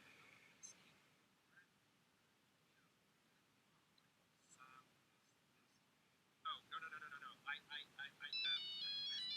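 An old-style mobile phone ringtone from the early 2000s cuts in after a quiet stretch of faint noises, playing loud, close repeated bursts of bright beeping tones that run into a steady tune.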